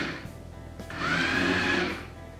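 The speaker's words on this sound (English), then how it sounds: "the tank is actually pretty loud, and I'll show you this really quick by moving it backwards and forwards" A Brookstone Rover 2.0 wireless spy tank drives back and forth, its small electric motors giving a close, buzzing whine that swells for about a second and then fades.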